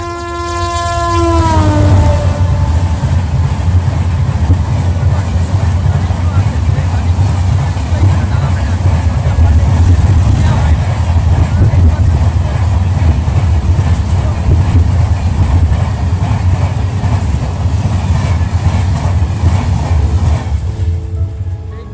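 An express train runs through Begunkodar station in Purulia, India, without stopping. A short horn blast opens a loud, continuous rumble and clatter of wheels on rails that lasts about twenty seconds before easing off at the end.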